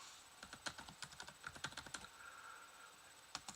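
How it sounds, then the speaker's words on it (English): Quick, fairly quiet clicks from someone typing on a computer keyboard, in an irregular run of keystrokes with a short pause before a final few taps, with no voice. "Excuse me typing."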